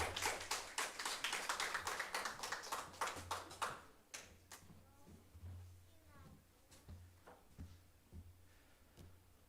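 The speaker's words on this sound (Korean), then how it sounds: "많은 격려의 박수 보내주시기 바랍니다." A church congregation at a Sunday service claps to welcome a young hymn performer, with a quick run of fairly close claps that thins out after a few seconds into scattered, fading claps and small knocks.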